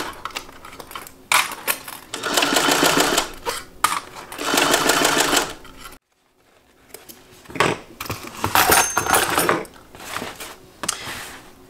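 A sewing machine stitches the exterior and lining of a fabric bag in long, rapid bursts, pausing briefly midway before several shorter runs, close and fairly loud.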